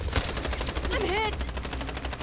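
Rapid automatic gunfire rattles in a Warzone Pacific match as a burst of quick shots repeats over a couple of seconds, with a short voice under it.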